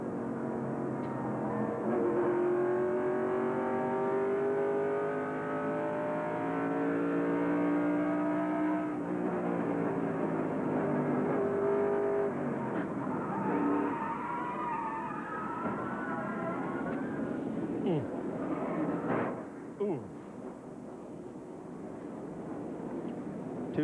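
Stock car engines roar at a 1996 Busch Series race, steady loud racing noise with shifting revs and a sharp burst near the end suggesting a multi-car pileup.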